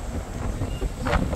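Wind on an Alaskan cruise ship's outer deck by the ocean, a steady rushing buffet against the microphone with low rumble, brief and fairly loud, no talking.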